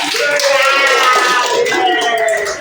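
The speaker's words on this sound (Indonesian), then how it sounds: "Kasih tepuk tangan buat Ical." Classroom applause for a student in a madrasah lesson, a dense, steady patter of many hands clapping at close range for a few seconds, with voices mixed in.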